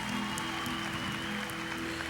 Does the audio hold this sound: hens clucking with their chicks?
no